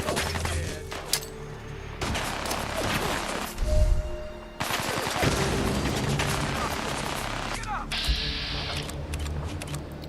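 Gunfire and plasma grenade blasts erupt in the Fallout 4 video game, with bursts of rapid shots, crashing explosions and mechanical clatter, close and dense, while someone talks over parts of it.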